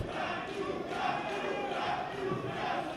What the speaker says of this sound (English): Did you hear that crowd going nuts for South Philly's finest?